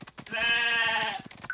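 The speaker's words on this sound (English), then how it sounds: "Bring these sheep to their pen." A single sheep in the Paw Patrol Academy children's game gives one drawn-out, wavering bleat lasting about a second, close and clear, framed by small soft game sounds.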